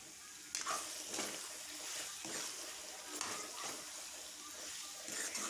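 Local chicken meat fries with onions and red chili, a soft hissing sizzle with occasional stirring clatters, under a speaking voice.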